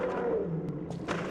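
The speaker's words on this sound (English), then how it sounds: "And then what's the mammoth say?" Deep, rumbling mammoth roar from the video game Lies of P, a single sustained growl lasting just over a second, moderately loud and heard alone without talk.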